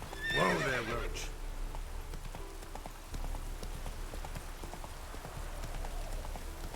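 In The Witcher 3: Wild Hunt, Geralt's horse Roach gives a loud, close neigh at the start, then trots on with steady clip-clopping hooves under light rain-like ambience.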